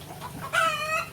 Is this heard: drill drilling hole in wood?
no